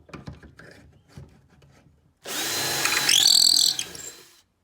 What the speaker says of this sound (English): we're going to just drill that hole